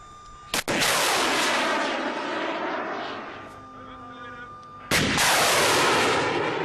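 Stinger shoulder-launched surface-to-air missiles fire at the NATO range at Namfi on Crete during annual firing exercises: a sharp launch crack, then a long, loud roaring rush that slowly fades, followed by a second crack and roar.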